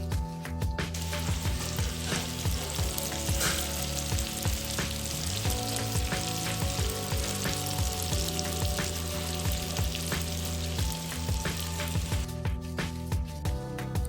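Prawns frying in masala in a pan give a steady, close sizzle with occasional crackles and stirring scrapes, continuous throughout and with no voices.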